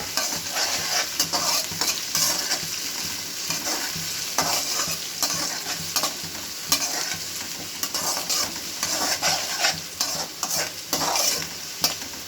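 Onions fry for a Telangana-style chicken curry with curry leaves in the pan, giving a steady close sizzle broken by frequent scraping and clacking stirs.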